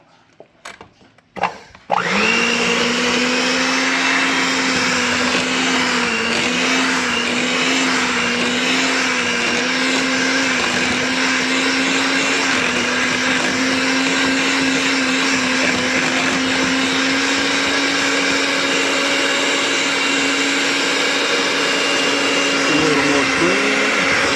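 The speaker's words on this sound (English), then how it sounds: "Then I use a blender." An electric blender purees a leek and fennel ragout with light cream, starting after a few clunks and then running as a loud, steady, continuous whir for over twenty seconds with a slight wavering pitch.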